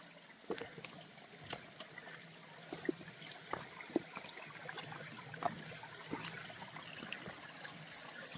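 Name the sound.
small mountain stream of water trickling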